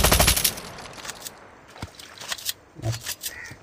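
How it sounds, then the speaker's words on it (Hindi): Rapid automatic gunfire from the mobile game Call of Duty Mobile opens in a dense, fairly quiet burst, followed by a few scattered single shots and short clusters. "फिर से फायरिंग करता हूँ"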